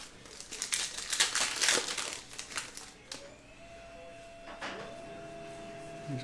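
Foil wrapping of a 2022 Panini Select MLB hobby baseball card pack crinkles and tears loudly up close for a couple of seconds, followed by quieter handling with a faint electronic tone.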